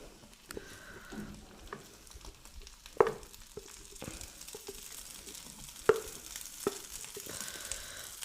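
Mashed potato frying with spices in a pan, a soft steady sizzle broken by a few sharp clicks and scrapes of stirring.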